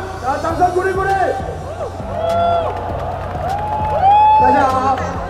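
A street rally crowd welcoming Kuomintang candidate Hou Yu-ih cheers and claps beneath loud, rising shouts and whoops from nearby voices, with the crowd noise swelling toward the end.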